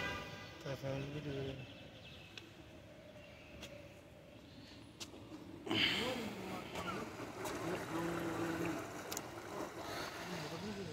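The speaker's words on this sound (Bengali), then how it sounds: "এর পাশে একটা ফ্যামিলি ট্রলার ঢুকতেছে।" A family motorboat passes along a canal in Doha's Qanat Quartier, its engine hum and water wash swelling sharply midway and staying louder, with people talking over it throughout.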